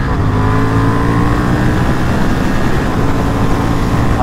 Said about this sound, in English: this is what the engine sounds and goes like